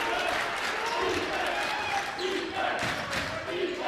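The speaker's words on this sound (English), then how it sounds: "now you can hear the crowd wrapping up those defensive chants" Basketball crowd in a high school gym during a game against Washburn Rural, loud sustained noise of many voices and some clapping as defensive chanting winds down, steady and close throughout.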